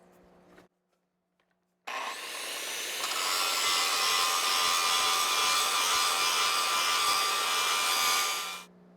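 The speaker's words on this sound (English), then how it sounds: "The poopy part about grinding the sled runner away is you got to find the high spot" A grinder works steadily on a worn steel plow sled runner, taking down its high spot: a loud, continuous harsh abrasive rasp lasting several seconds after a brief silence, then cutting off.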